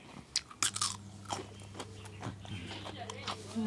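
Crunchy bites into crispy food during a Thai meal, a few sharp close crunches and chewing sounds mixed with talk.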